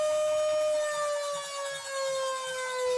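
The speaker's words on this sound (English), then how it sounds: "And there's our siren" A steady, wailing siren tone at a high school football game holds nearly constant, loud and continuous, with a faint low murmur underneath.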